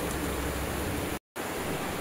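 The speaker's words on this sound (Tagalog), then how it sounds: "Ngayon, bigla siyang umulan, kaya ako huminto." Steady hiss of rain falling on a mango orchard, with a brief moment of total silence in the middle.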